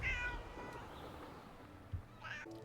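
A pet cat meows twice at close range, the calls brief and fairly faint over a low background rumble.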